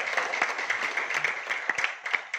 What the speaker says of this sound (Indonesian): Tepuk tangan PTBS.